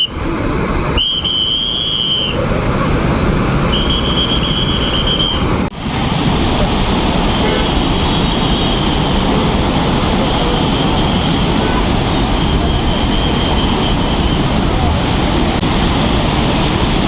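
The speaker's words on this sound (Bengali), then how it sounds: "এইবার আপনারা শুনুন জলের আওয়াজ কেমন।" Water rushes at Maithon Dam, a loud, continuous roar that fills the whole stretch, broken by a couple of short whistles near the start.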